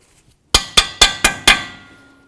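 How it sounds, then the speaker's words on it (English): A metal cotter pin being fitted into the tie rod hole on an 08-12 Jeep Liberty gives five sharp, evenly spaced metallic clinks close by, each ringing briefly before fading into a short tail. "We're going to take our cotter pin, slide it through the hole"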